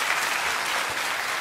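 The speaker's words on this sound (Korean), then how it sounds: "이 고마운 분들 또 선생님들께 한번 큰 박수로 격려해 주시면 감사하겠습니다" A church congregation claps for its teachers on Teachers' Sunday, a steady, fairly close wash of applause lasting the whole short stretch without any voices over it.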